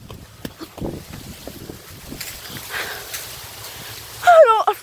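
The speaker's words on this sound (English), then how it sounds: "I hear like motors in the background all around me." Distant motors drone low and steady outdoors in a corn maze, a faint continuous rumble mixed with wind buffeting the microphone, with a sharper burst of sound near the end.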